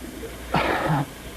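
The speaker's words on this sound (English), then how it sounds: "I have to sneeze." A staged sneeze in an old radio drama, a single quick burst of a sharp inhale and release lasting about half a second, close and clear against a quiet background.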